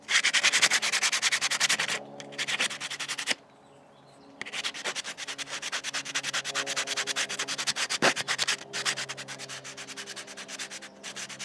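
A wood block is hand-sanded with 80 grit sandpaper in fast, rhythmic back-and-forth rasping strokes, close and fairly loud, broken by one clear pause of about a second before scrubbing resumes.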